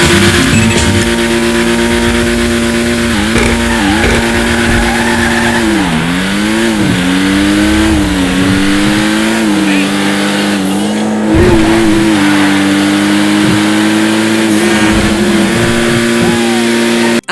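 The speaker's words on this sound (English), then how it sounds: "here is how the Ocelot Pariah sounds" An Ocelot Pariah sports car engine in GTA Online revs loudly and continuously, its pitch climbing and dipping through gear changes, with no talking.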